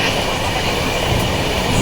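A train rolling along its rails, heard from inside as a loud, steady rumble and rattle with continuous low roar throughout the short stretch, no voices.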